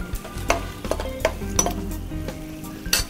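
Fried beef is stirred into chilli sauce in a pan, giving a sizzling hiss broken by several sharp clinks and scrapes of a utensil against the metal.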